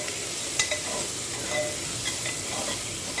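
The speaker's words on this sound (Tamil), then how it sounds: "வெங்காயம் வதங்க ஆரம்பிக்குது." Onions sautéing with green chili and curry leaves in a pan for a masala chicken curry, giving a steady close hissing sizzle with occasional soft stirring scrapes and no talk.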